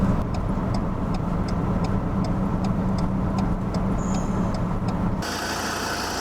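Ford Ranger ute circling the Mount Panorama circuit at Bathurst, its engine a steady close drone with faint rhythmic ticking above, easing to a lower, quieter hum near the end.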